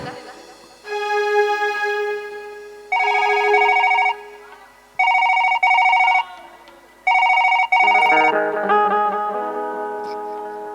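A telephone rings loudly in repeated bursts with short gaps, then shifts into a steady electronic tone toward the end.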